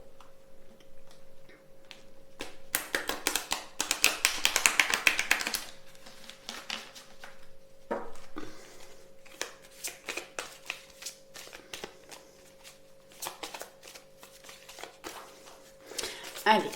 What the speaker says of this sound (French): on va tirer quelques cartes